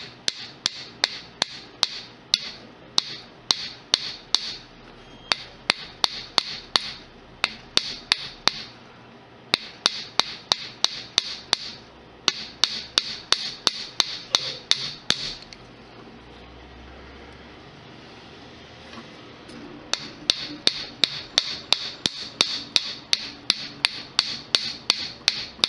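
A hammer strikes a copper bookmark on a hard surface in quick bursts of sharp metallic taps, pausing briefly between runs, close and clear with no talking.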